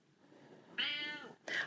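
A black cat meows twice up close, a drawn-out rising-and-falling meow followed by a shorter second one, in a quiet room with no talking.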